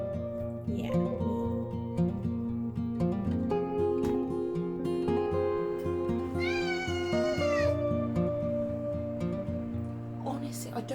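A cat meows close by over and over, long insistent calls with rising and falling pitch, sometimes drawn out into a wail, under steady background music in a home studio.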